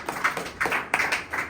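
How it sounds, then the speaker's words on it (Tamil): A church congregation claps hands in praise, three or four loose bursts of clapping close by, each swelling and fading over a second and a half with no voices over them. "கைத்தட்டி ஆண்டவர் மகிமைப்படுங்க"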